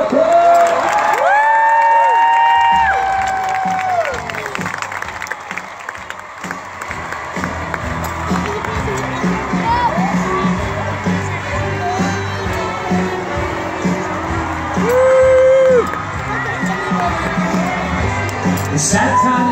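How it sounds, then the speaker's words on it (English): A large crowd at a Walt Disney World Christmas celebration taping for Garth Brooks cheers, whoops and applauds loudly and continuously, with shouts and a few whistles rising above the dense roar. "Applause in 5, 4, 3, 2. Give it up for Garth."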